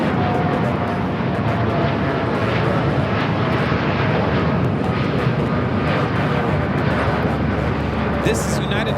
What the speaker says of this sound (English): This is United Airlines 3916 taking off to Newark on the 787-9 Dreamliner